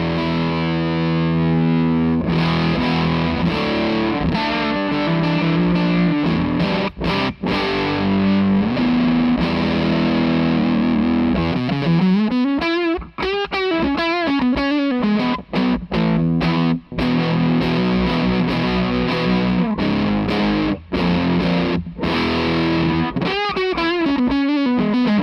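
Electric guitar through an Argenziano Effetti Voodoo '67 fuzz pedal with gain raised, heavily distorted with thick fuzz, playing sustained chords and bending riffs, loud and saturated throughout with brief choppy pauses.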